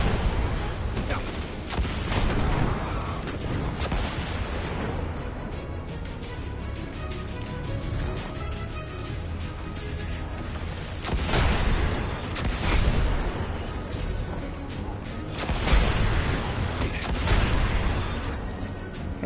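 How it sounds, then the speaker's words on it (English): Heavy scorch cannon fire in Destiny 2, repeated booming blasts and explosive bursts swelling over a dense, loud game soundscape, with people talking throughout. "A scorch cannon."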